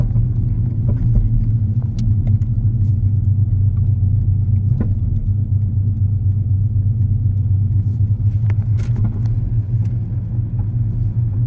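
Cars rolling through a large Buc-ee's gas station lot in Virginia, a continuous loud low engine and tire rumble with passing vehicles and no voices.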